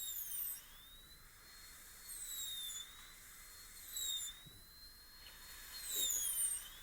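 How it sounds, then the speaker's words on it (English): A high-speed dental burr reduces a molar tooth for a crown, its thin whine rising and falling in pitch in repeated sweeps, quiet and close with no talking. "bring the end of the burr gently out the lingual groove"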